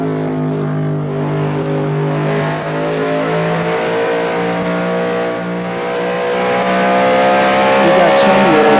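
A race car in Vanishing Point drives at speed with a steady, loud tonal engine drone, pitch shifting gradually and swelling toward the end, while someone talks over it.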